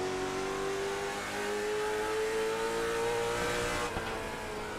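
A race car at a Monday night short-track series at Southern National Motorsports Park accelerates off a corner, its engine note rising smoothly and continuously, loud and fairly close, with other cars droning in the background.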